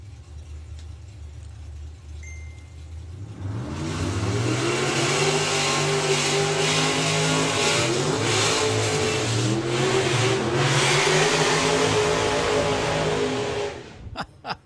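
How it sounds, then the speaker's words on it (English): At a VW drag racing meet, a car performs a burnout: an idling engine swells into long, loud revving with screeching tyre noise for about ten seconds before cutting back near the end. "Fast Freddy style of burnouts."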